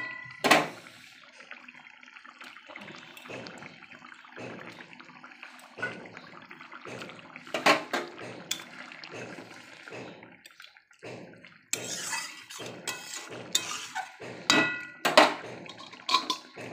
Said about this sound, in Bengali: আমি এখন মাছগুলো ছেড়ে দেবো।